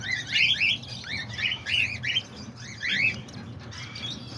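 Newly hatched cockatiel, lovebird or parakeet chicks, two to four days old, chirping in the nest: rapid, close bursts of thin rising peeps that repeat in clusters with short gaps.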